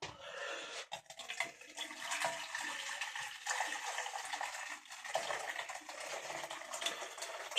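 Hot water pours steadily into a cooking pan for vegetable and bacon broth, a continuous splashing, gurgling stream that runs throughout at moderate loudness, with no talking.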